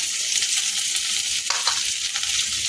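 Cooked rice is stirred into a hot, sizzling pan of paneer fried rice, with a constant crackling hiss and a burst of scraping and tossing midway. No one speaks.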